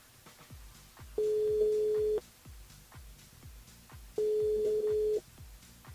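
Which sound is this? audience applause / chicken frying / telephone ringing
telephone ringing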